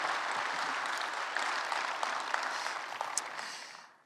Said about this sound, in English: come on, let's give God a huge round of applause